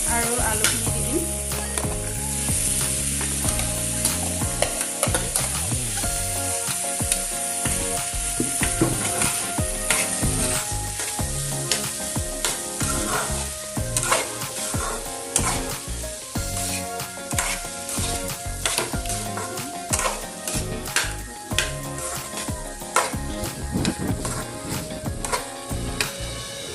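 Chana dal and potato pieces fry in hot spiced oil in a pan, sizzling steadily throughout while a spoon stirs and scrapes with frequent clinks and knocks close up.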